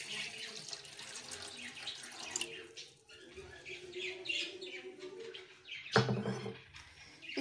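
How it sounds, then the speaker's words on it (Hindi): Water, about two cups, is poured into a pot to make ginger green tea (kahwa) in a home kitchen. It makes a steady splashing trickle running under chirping birds in the background, with no speech. "तकरीबन 2 कप मैं इसमें पानी डाल रही हूँ।"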